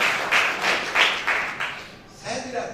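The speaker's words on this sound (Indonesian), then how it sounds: "Tepuk tangan bagi lagi." Church congregation applauding in bursts of clapping that swell and fade in waves, moderately loud, with a voice starting to speak near the end.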